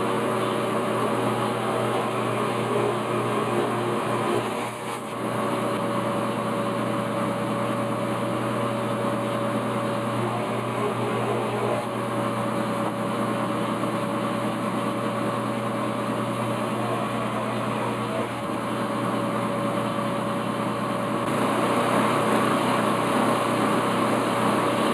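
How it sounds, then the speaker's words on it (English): A drill bit boring through a wooden board backed by scrap wood gives a continuous, loud, even motor drone for the full stretch, close by, with no talking. "So now I just have to drill."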